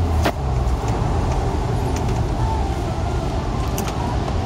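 A Kia Sorento SUV drives on a wet road in rain, giving a steady broadband rush of tyre spray and road noise with a low engine hum throughout, close and constant.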